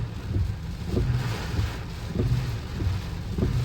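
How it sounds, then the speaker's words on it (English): Strong wind roars and gusts steadily against a car roof, with low rumbling buffeting that swells and eases in waves, loud and close to the microphone, on the Icefields Parkway. "You can see how hard the wind's blowing by watching the water"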